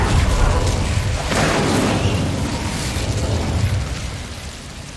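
Incendio fire spell cast in the video game Hogwarts Legacy, a loud roaring burst of flame that swells and then trails off into a rumbling, crackling tail.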